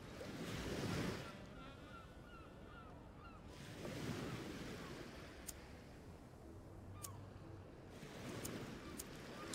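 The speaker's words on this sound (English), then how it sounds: "It's too much wind." Outdoor wind gusts buffet the microphone in broad rushing surges, swelling around the start, middle and end, with a faint low hum and brief chirps in the background.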